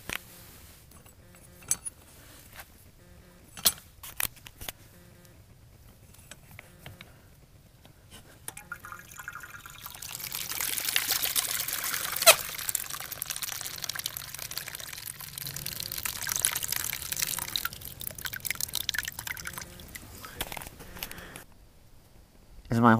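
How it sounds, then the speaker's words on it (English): Water pours and splashes from a spigot below an Appalachian Trail shelter, fed from a rainwater cistern; a steady broadband rush builds midway and holds for about ten seconds, nearby, after quieter handling sounds. "Downhill from the shelter is the spigot."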